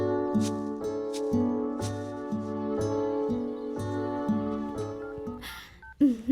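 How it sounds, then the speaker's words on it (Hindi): A phone rings for an incoming call in a scene from a Hindi-dubbed South Indian film: a repeating electronic ring tone that pulses in regular bursts, clear and alone, ending in brief altered tones. "सुलक्षणा फोन कर रही है"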